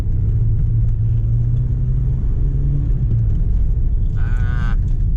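A VW Golf Mk2 cruises through city streets in fourth gear, its engine a steady, loud low drone and road rumble heard from inside the car, with a brief high whine near the end.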